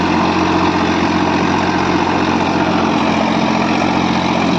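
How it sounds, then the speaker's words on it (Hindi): A Sonalika tractor runs a Sonalika rotavator in a field, its engine droning steadily and loudly with a low, even rumble throughout. "देख सकते हैं ट्रैक्टर बहुत ही बढ़िया परफॉर्मेंस लेके चल रहा है ट्रैक्टर की रोटावेटर की"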